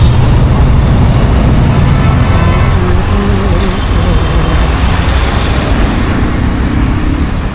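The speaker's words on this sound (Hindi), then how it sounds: "ट्रैफिक तो लग गया यहाँ पे भी" Road traffic in a jam, a loud, dense, continuous drone of car, truck and bus engines close by, with honks and hisses mixed in and no pause.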